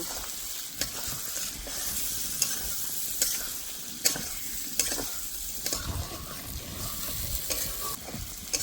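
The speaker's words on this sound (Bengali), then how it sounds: "এই সময় দিয়ে দেবো ভেজে রাখা পটল আর আলুগুলো। এবার ভালো করে কষে নেব।" Fried potatoes and pointed gourd are sautéed in spice paste, with a constant oily sizzle and the spatula scraping and knocking against the pan at irregular intervals. It is close and moderately loud, with no voices.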